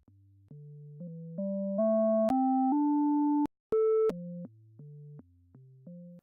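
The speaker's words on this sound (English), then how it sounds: "there's very little difference between this and a pure sine wave" A pure sine-wave tone from a VCV Rack modular synthesizer steps through a simple melody, each note held briefly at steady volume, with a short silent gap midway.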